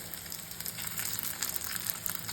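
Teasel gourd (kakrol) pieces, coated in salt, turmeric and rice powder, fry in very little oil over low heat, giving a soft, steady sizzle with faint crackles throughout and no voices.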